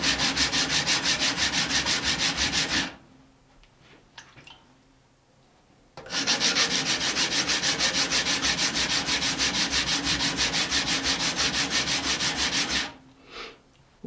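A Japanese kitchen knife is ground on a whetstone, its edge bevel being thinned. Two long stretches of steady, rhythmic back-and-forth scraping are separated by a short quiet pause, and the strokes are close and fairly loud.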